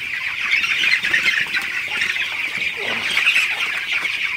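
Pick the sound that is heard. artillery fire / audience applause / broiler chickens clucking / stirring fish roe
broiler chickens clucking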